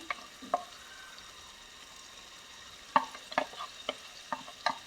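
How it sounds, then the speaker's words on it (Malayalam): Chopped onions and green chillies sauté in hot oil, with a soft background sizzle and a series of sharp spatula scrapes and clinks against the pan, irregular and close, some in quick clusters. "ഇനി അരിഞ്ഞു വെച്ചിരിക്കുന്ന ഉള്ളിയും പച്ചമുളകും ഈ എണ്ണയിലേക്ക് ചേർത്ത് കൊടുക്കും. ഇനി ഇത് നന്നായിട്ടൊന്ന് വഴറ്റിയെടുക്കാം."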